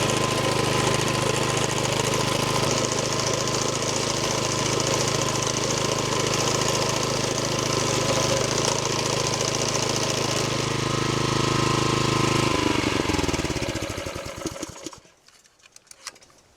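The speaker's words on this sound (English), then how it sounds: "This is our sickle bar or scythe mower, based on an old traditional Allen mower style." Sickle bar scythe mower in the old traditional Allen style, its small engine chattering loudly and continuously with a rapid mechanical clatter before slowing and cutting out near the end.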